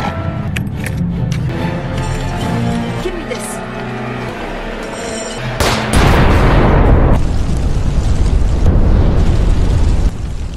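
Music plays, then a sudden loud explosion bursts in and a heavy roaring rumble continues to the end.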